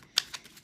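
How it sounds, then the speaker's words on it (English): Tarot cards being shuffled by hand, a few quick crisp riffling bursts in under a second, close and fairly quiet. "I'm going to keep shuffling"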